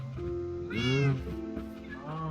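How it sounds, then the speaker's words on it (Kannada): A cat in the Minecraft video game gives a single rising-and-falling meow, loud and close. Fainter tonal game sounds continue around it. "ಬೆಕ್ಕು ಅಲ್ಲೇರು."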